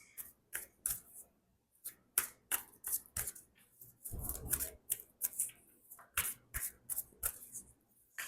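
Tarot cards being handled, shuffled and drawn at close range, a string of crisp, quick card flicks and riffles with short pauses between them and a longer shuffling burst in the middle.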